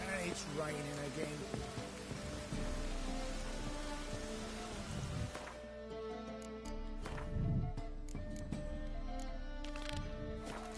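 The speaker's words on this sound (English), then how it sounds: "It's raining again." Rain in the video game The Witcher 3 patters steadily, dense at first and then thinning to more scattered drops, with a low rumble underneath.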